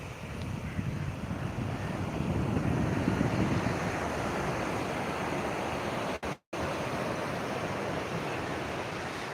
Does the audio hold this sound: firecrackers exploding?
no